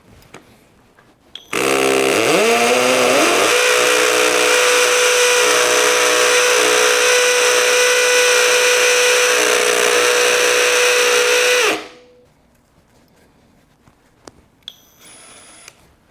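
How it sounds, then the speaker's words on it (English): Cordless hammer drill set to hammer mode at speed 2, spinning up and running in one steady, loud burst of about ten seconds before winding down, with quiet room tone on either side. "we're going to set our hammer drill on hammer. We're going to put it in speed 2"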